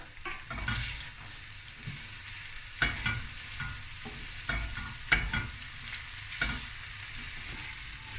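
Oyster fried rice stirred in a hot pan, a steady sizzle broken by repeated scraping strokes and clanks of the utensil, close and fairly loud, with no voices.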